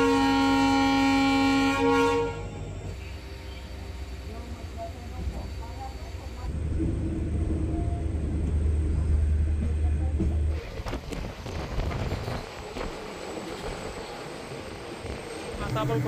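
The Dadar–Sawantwadi Tutari Express departs with a long train horn at the start, followed by rolling rail rumble and clatter that builds and stays loud to the end.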